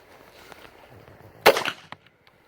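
A single sharp, loud gunshot cracks at an outdoor range, fired at a Safariland Hardwire 68 IIIA ballistic panel, then a fainter follow-up click and brief quiet.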